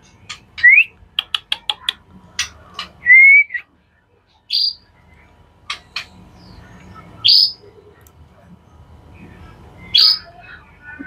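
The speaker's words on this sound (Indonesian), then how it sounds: "itu dia murai batu pasol saya yang giras ya" A white-rumped shama of the pastol type sings nearby in clear, loud whistled phrases: quick clusters of sharp chirps, then rising slurred whistles, separated by short pauses against a quiet background.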